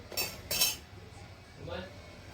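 Metal spoon clinking against a pan while eggs are mixed into fenugreek greens, two sharp bright clanks followed by a softer scrape, quiet and close.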